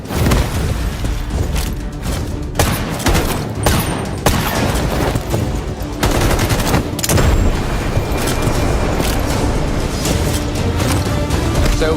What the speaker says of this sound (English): Enjoy the bomb!